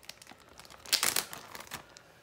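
A plastic Ziploc bag crinkles and rustles while fish pieces are shaken in it for a coating before frying. The handling is close and moderately quiet, with a burst of louder crinkling in the middle and no talking.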